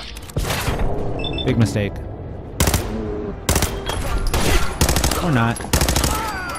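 Enemy gunfire in the video game Fallout 4 comes in several sharp bursts of shots aimed at the player, with pauses between them and a voice speaking during the breaks.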